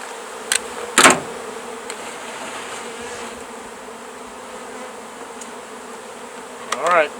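Honey bees swarming around a beehive catch box set above a brood box, a close, continuous buzzing hum with a few sharp louder bursts as insects pass near.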